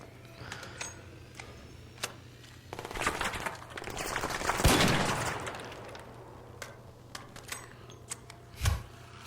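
Gunfire in the video game ARC Raiders cracks out in scattered single shots over a low steady hum, with a denser rumbling stretch midway and a sharper blast near the end.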